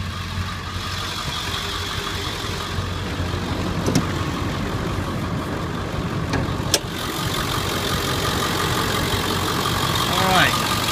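A 2000 Ford F250 diesel 4x4 Lariat with 292,732 miles idling under an open hood, a steady low rumble with a few clicks and knocks, faint background voices.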